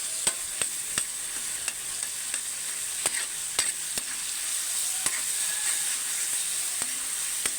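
Tomato and garlic frying in a pan, a steady bright sizzle with periodic sharp clicks and scrapes as the food is stirred, close and continuous, no voices.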